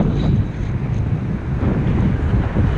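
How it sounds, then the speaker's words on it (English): Strong wind roars and buffets the microphone outdoors at Antony House, Torpoint, in a steady, loud rumble with gusty swells throughout, and no voices. "It is so horrendously windy."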